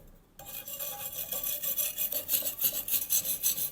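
A wire brush scraping metal on a homemade survival stove, close and loud, in quick rhythmic back-and-forth strokes after a short silent start.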